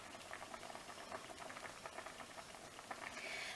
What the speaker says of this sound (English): that's a nice boil